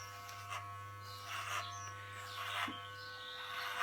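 Electric hair clippers cutting hair, a steady low buzz running throughout with brief raspy bursts as the blades pass through, quiet and close.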